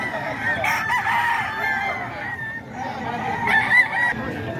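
A group of Milsim Black gamecocks crows in overlapping, sustained calls at a rooster sale in Bocaue, fairly close, with clucks and murmuring voices underneath.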